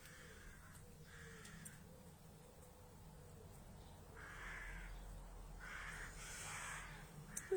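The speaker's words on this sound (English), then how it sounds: "We've got a lot of baby crows and they make a lot of noise." Baby crows cawing outdoors, several bursts of harsh calls from a distance, faint over steady background hiss, growing busier toward the end.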